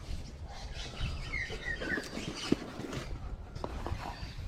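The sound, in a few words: birds chirping, competing for nesting territory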